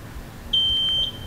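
A Gesits electric scooter's keyless remote gives a single high, steady beep of about half a second, clear against a low background hum.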